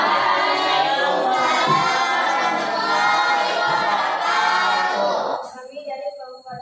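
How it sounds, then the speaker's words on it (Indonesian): Students in a classroom clap together in a loud, dense burst of applause mixed with cheering and shouting, lasting about five seconds before cutting off. "kalau sudah benar kita berikan tepuk tangan"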